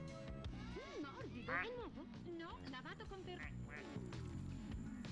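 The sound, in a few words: duck quacking in a video game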